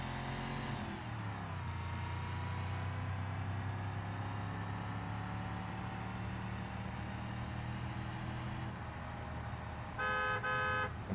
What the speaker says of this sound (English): It's sort of a car horn.